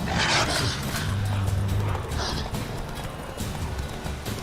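In The Witcher 3, a horse gallops with steady, rhythmic hoofbeats that run throughout, mixed with game ambience and a faint voice underneath.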